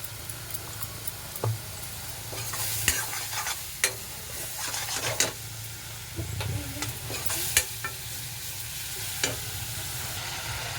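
Food frying in a pan while a utensil stirs it, with a steady sizzle and irregular scraping clacks throughout, close and moderately loud, no talking.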